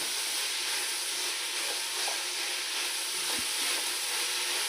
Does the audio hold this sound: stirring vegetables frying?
yes